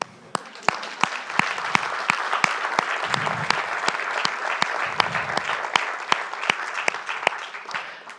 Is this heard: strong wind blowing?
no